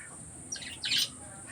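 Small pet birds in a netted backyard enclosure give two short, bright chirping calls in quick succession, close and fairly clear over a faint steady background hiss.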